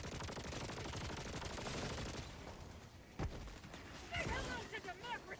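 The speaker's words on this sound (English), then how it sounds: "The machine gun sentry could have killed us very easily." Machine gun sentry in the video game Helldivers 2 fires sustained rapid bursts through the first few seconds, followed by a sharp single blast and later chirping effects, with game sound throughout.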